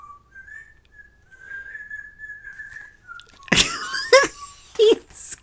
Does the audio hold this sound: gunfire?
no